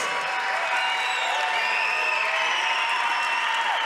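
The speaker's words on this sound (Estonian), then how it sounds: "Aplaus" Audience applause at a combat sports gala in Pärnu, Estonia: dense, sustained clapping from a large crowd, loud and steady throughout, with faint cheering mixed in.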